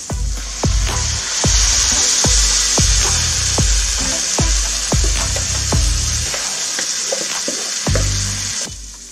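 Garlic and diced tomatoes sizzle loudly in a hot frying pan, a steady hiss punctuated by regular knocking thumps from stirring or tapping, continuous and close.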